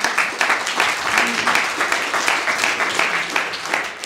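Applause ripples through a soccer club launch gathering for the technical director, an even patter of many hands clapping with voices talking over it.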